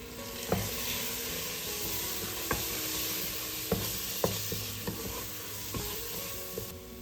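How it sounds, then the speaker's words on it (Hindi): Sabzi masala and roasted pomegranate seed powder roasting in oil with onion and tomato over low gas, a steady sizzle under sharp, spaced spoon taps and scrapes against the pot. "1 मिनट के लिए भुनेंगे ताकि फ्लेवर प्याज टमाटर के साथ रच मिच जाए।"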